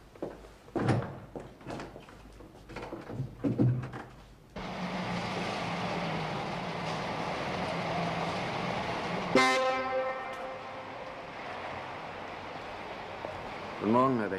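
Brief clatter, then a loud sustained car horn blast that rings for several seconds before cutting off, followed by a fading tone and a short voice.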